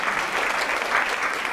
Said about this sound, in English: you could clap louder than that